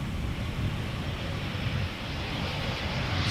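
Airliner touching down at Amsterdam Schiphol without thrust reversers, a broad, even engine roar of moderate loudness with no surge, heard alone at a distance.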